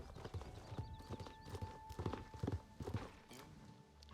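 Horse hooves clip-clop in a steady walking rhythm, close and moderately loud, from the video game Star Stable, with a faint steady tone humming underneath.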